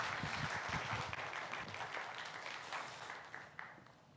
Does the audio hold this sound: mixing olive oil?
no